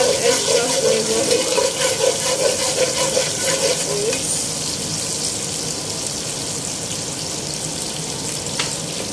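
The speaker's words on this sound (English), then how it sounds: "Add the chopped onions." Chopped onions frying in a pan for egusi soup give a steady, close sizzle with some stirring, softening slightly partway through.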